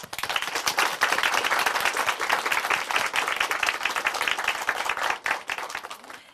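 A church audience at a faith testimony program gives sustained, dense applause, with many hands clapping at once. It stays loud and steady for several seconds before thinning out at the very end.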